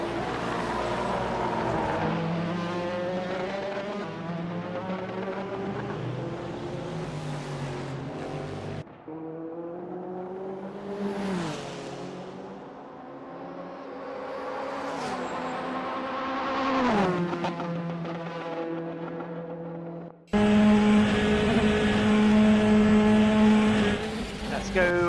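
Hypercar and GT3 engines from a sim-racing 24 Hours of Daytona race whine and rise and fall as cars work through infield traffic, with a commentator talking over the engines throughout.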